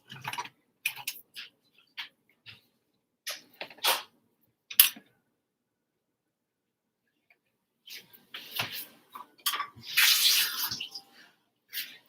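A cake decorating stick for a beach mermaid fondant cake being dipped into water, making short faint splashy, tapping sounds with gaps of quiet between them.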